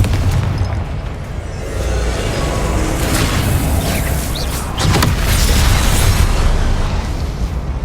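Confringo, the fiery explosion spell in Hogwarts Legacy, bursts with a loud, sustained rumbling boom that swells over several seconds and carries sharper crackling blasts near the middle, dense and close with no voices.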